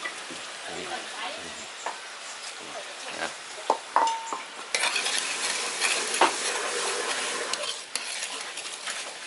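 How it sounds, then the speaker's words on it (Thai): Slow stirring of thick sweet fish sauce for neem in a pan, with soft utensil scrapes and clinks over a faint sizzle, close and steady, and brief talk in between. "ต้องให้มันเหนียวนิดนึงคนค่อยๆใจเย็นๆนะฮะ"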